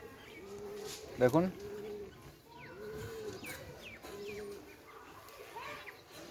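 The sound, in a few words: Pakistani Golden pigeon chicks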